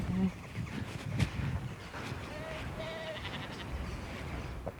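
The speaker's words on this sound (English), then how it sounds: "The sheep seemed rather unimpressed with my impromptu singing performance." A few faint sheep bleats drift in from a distance over steady wind on Yorkshire hills, with a voice nearby.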